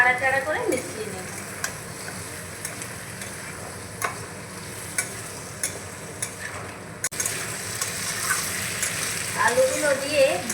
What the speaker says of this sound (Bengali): এবার ভালো করে নাড়াচাড়া করে মিশিয়ে নেব